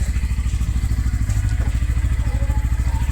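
A motorcycle engine, one of two bikes readied for a long road ride, runs steadily close by, its rapid, even thumping pulses holding a constant rhythm throughout.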